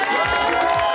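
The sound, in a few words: wedding guests applauding and cheering for the groom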